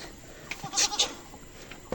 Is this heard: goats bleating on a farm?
yes